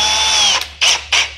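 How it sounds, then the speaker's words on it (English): A die grinder whines loudly at high speed against sheet metal, holding a steady screaming tone before cutting out, then two short, harsh bursts as it bites in again, close and alone. "Just going to do this with the die grinder thing"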